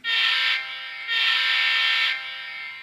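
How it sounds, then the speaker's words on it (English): A model train horn with a Doppler effect blares in two long, loud blasts with a brief dip between them, its chord-like tone steady and close. "Number 2 is the horn."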